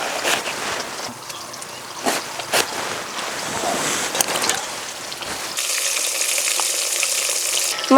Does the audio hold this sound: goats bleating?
no